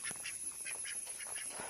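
Several ducks quack in quick succession, nasal calls repeating close by against a faint steady hiss.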